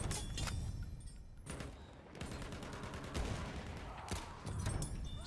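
Battlefield 1 video game gunfire, with rapid bursts of sharp shots and automatic fire coming in clusters, loud and close, over rumbling background battle noise.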